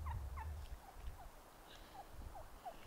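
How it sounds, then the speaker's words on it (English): Three wild turkeys in front of a house give repeated short gobbling calls, a rapid series of clucks in bursts, fairly faint and set against a low outdoor rumble. "there's like three turkeys just chilling in front of her house"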